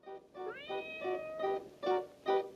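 A street cat in a scene from the film The Third Man, meowing in a run of about six drawn-out, rising and falling cries close to the listener, with no talk over them.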